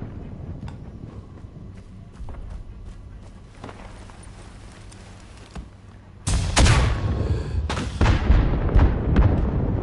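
A booming explosion in the World War I Italian-front shooter Isonzo hits loud and close, followed by a rumbling, crackling tail, after a stretch of scattered distant gunfire and battle noise.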